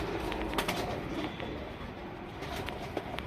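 A male Tamral pigeon coos softly at close range, low murmuring calls repeating over a noisy background with faint clicks and bustle.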